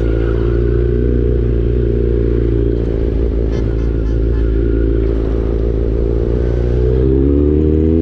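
A Kawasaki Z900 motorcycle idles loudly and close, its engine giving a deep, steady rumble with a faint mechanical clatter, then rising in pitch near the end as the throttle is blipped.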